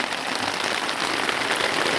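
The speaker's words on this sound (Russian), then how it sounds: "Ну вот, дождь." Rain pours down in the taiga forest, a dense, even hiss of drops striking the ground and leaves, close and steady with no other sounds.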